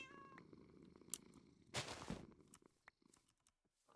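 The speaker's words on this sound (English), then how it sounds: "Cat just laid down with me." A Minecraft cat purrs softly and close, a low, faint rumble that sits under a burst of sharp, hissy noise and scattered small clicks.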